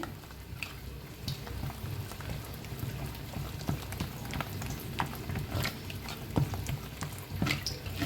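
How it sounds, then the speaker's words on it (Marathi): Capsicum pakoras fry in oil, a close, continuous bubbling sizzle with scattered sharp pops and crackles throughout, no voices over it. "तर छान असं दोन्ही साईडनी तळून घेऊया"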